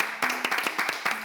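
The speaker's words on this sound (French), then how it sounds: "J'insiste pour qu'on applaudisse" A small audience at a gathering claps briefly, a handful of distinct nearby hand claps landing in a short, uneven rhythm.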